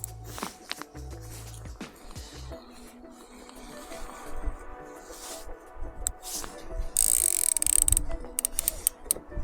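A fishing reel's drag clicking as line is pulled out by a fish on a fishing trip, a rapid ratcheting series of clicks in bursts, close and fairly loud with some handling noise.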